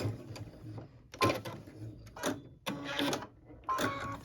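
A home sewing machine runs in short bursts while stitching close to the edge of a pieced, quilted fabric stocking, stopping and restarting several times for a back stitch; the bursts are fairly close and moderately loud, with no talking.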